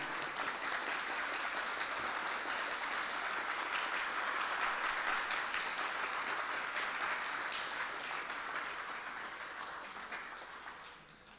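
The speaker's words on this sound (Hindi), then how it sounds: "जोर से ताली बजाएं।" A crowd at a Vishwa Shanti Hawan gathering in Toronto, Canada applauds continuously, a dense, even wash of many hands clapping that fades slightly near the end.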